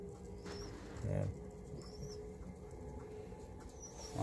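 A large breeding pigeon pair, a cock and a hen, gives a single low, soft coo near the middle, with a quiet room ambience around it.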